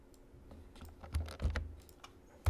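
Rapid clicking keystrokes on a computer keyboard while code is typed for a doubly linked list program, close and crisp with irregular bursts and a few louder taps, no talking.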